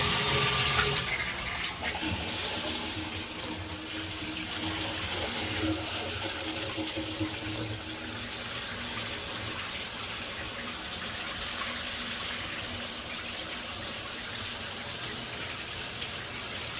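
Hotel shower in an oceanfront resort room running steadily, a continuous close hiss of spraying water with a slight surge in the first two seconds, then even and unbroken throughout.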